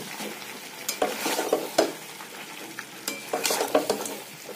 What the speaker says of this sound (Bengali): ধনেপাতা কুচি দিয়ে দেবো, দিয়ে মাংসের সাথে আমরা আর একটু কষিয়ে নেব